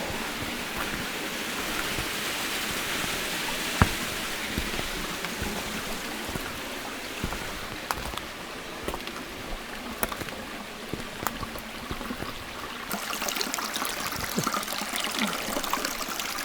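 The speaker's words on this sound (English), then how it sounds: "a shorter lip there where the water goes down and makes a nice bubbling noise." Water trickling and bubbling steadily close by as a stream drops over a short lip, a soft continuous burble with small splashes and drips, quiet and unbroken.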